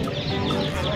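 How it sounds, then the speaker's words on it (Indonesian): Colourful dyed baby chicks at a market give a steady, dense chorus of high peeping that fills the whole second, loud and close, with a busy crowd murmur underneath. "Anak ayam warna-warni, guys."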